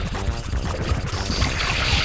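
Water refills in the video game Super Mario Sunshine with a pouring, trickling splash and a rhythmic low thumping underneath, steady and moderately loud throughout.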